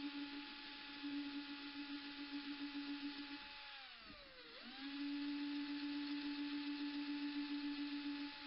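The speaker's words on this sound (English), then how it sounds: "I'll just start drilling some holes." A power drill whines steadily up close, drilling holes in a Gretsch hollow-body guitar neck, bogging down in pitch for a moment as it bites in, then spinning back up to a steady drone.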